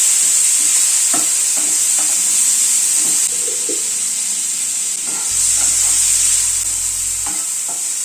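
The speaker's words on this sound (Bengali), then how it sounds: "সামান্য একটু নুন দিচ্ছি, সামান্য একটু হলুদ দিচ্ছি, দিয়ে চিংড়ি মাছটা হালকা করে ভেজে নিচ্ছি।" Prawns fry in a pan with a little salt and turmeric, a steady broad sizzle running throughout with scattered crackles and a few soft stirring knocks, fairly loud and close with no talking.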